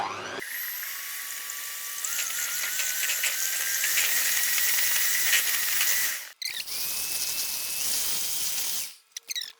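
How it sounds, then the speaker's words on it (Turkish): An electric mixer whips cream for quesillo with a loud, steady high-pitched motor whine that rises slightly in pitch, cuts out briefly, then resumes before stopping near the end. "Kremamızı bir çırpalım."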